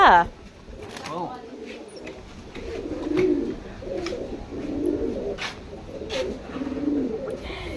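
Pigeons coo nearby in a series of soft, low, rolling calls repeating through the stretch, while people talk over them.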